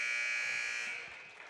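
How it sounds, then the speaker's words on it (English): A basketball game buzzer sounds at the end of the first quarter of a junior varsity boys' game, one loud steady electronic blare that holds, then fades slowly into the gym's echo. "at the buzzer"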